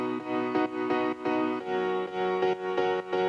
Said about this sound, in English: The first one is this Nexus piano.